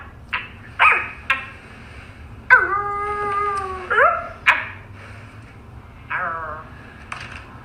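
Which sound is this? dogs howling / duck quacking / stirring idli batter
dogs howling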